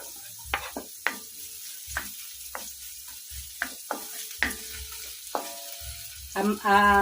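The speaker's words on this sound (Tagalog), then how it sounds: "Add natin ng oil para medyo mabilis yung ating paggisa. Sunod natin yung ating luya." Ginger sautéing in hot oil for chicken adobo, with a series of sharp scraping stirs over a steady background sizzle that swells into a louder burst of frying at the end.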